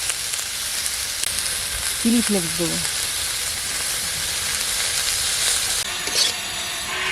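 Chopped onion, tomato and garlic sizzle in a pan in a steady, loud, hissing fry that lasts throughout, while a person speaks briefly partway through.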